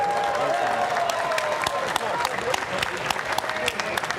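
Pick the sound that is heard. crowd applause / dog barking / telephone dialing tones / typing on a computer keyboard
crowd applause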